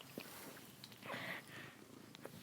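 A house cat purrs softly near the microphone in a quiet room, a faint low rumbling rhythm with small rustles, no one talking over it.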